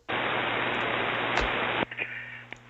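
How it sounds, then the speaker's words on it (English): An old tube radio receiver hisses with loud, steady white-noise static that cuts off abruptly, leaving a faint hum and a few small clicks. "No, I hear white noise"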